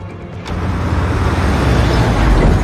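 A steady engine rumble and road noise from a moving bus, swelling slightly after the start and continuing without a break.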